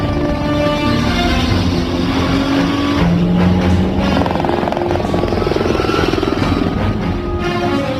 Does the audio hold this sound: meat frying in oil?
no